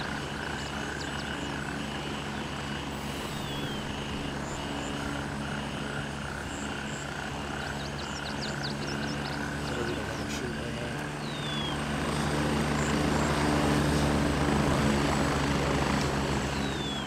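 An enemy helicopter in a war video game drones overhead as a steady rotor rumble that grows louder toward the end, with a chorus of croaking frogs and other ambient game sounds around it.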